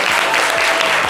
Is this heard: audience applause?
yes